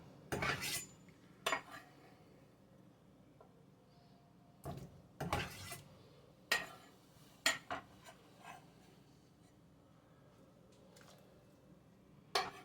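Dumplings dropped into a cooking pot for one-pot chicken and dumplings, heard as scattered sharp clanks and knocks of metal pot and utensils spaced irregularly in a quiet kitchen.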